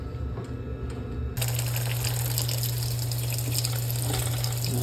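Hot water with soap runs steadily from a tap into a container to soak oily saw parts and trimmings, a loud continuous rushing that starts abruptly and carries on to the end.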